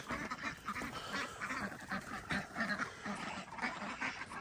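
Geese at a frozen farm water trough in winter, giving faint, continuous honks and quacking chatter at low volume.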